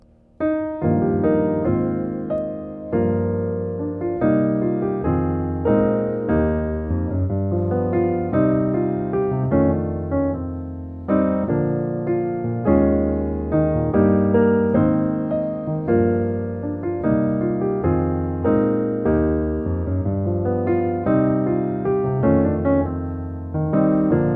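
Rich piano chords from the chorus of "Oh Give Thanks" play continuously in a flowing, gospel-jazz style, full and sustained, with no voices over them.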